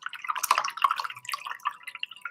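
Paint brush swished and rinsed in a water container, a close run of light rapid drips, splashes and clinks, quiet and irregular with no talking.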